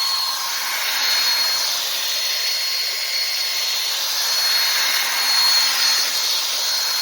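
Resin is stirred back and forth in place, making a continuous soft scraping and rubbing hiss that swells and eases slightly with each stroke. It is steady and close, with no talking.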